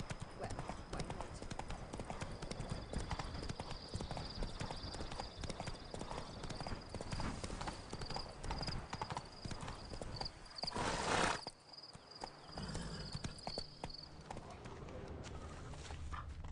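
Rhythmic hoofbeats from a galloping horse in The Witcher 3 Blood and Wine pound steadily across most of the clip, mixed with game ambience and a brief whinny-like burst, then they fade.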